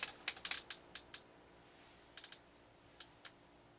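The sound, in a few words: typing on a computer keyboard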